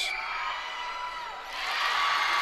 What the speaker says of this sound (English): Mayfield still here, still cheering on the Tigers.